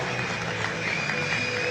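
A stadium crowd at a Celtic Challenge rugby match sends up a steady, broad roar as the Edinburgh Rugby team takes the field, heard at a distance.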